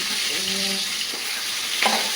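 Half a kilo of cut ivy gourd pieces frying in hot oil, a dense continuous close sizzle with light stirring scrapes and no voices.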